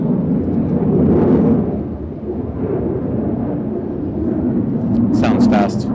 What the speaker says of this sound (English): Oh, there's a good jet sound.